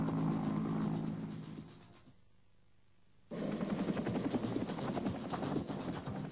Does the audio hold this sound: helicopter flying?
yes